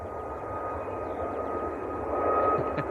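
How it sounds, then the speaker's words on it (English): A Ryanair Boeing 737 Max jet on its takeoff roll at Manchester Airport gives off a steady, moderately distant engine whine and roar that swells slightly toward the end. "Ryanair to Alicante on the roll."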